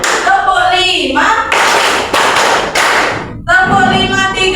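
Many pupils clap together in a counted pattern, two loud, close bursts of dense hand claps framed by group chanting of the count.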